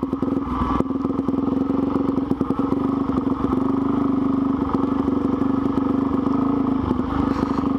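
A 200cc motorcycle engine runs steadily nearby, a loud, continuous buzzing drone with a slight rhythmic flutter and minor clatter throughout.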